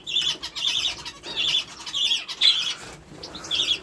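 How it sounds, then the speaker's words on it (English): A pet canary in a home aviary gives repeated sharp, high squawking calls in short bursts with brief gaps, close and fairly loud, no talking. "there's one of our 5 canaries"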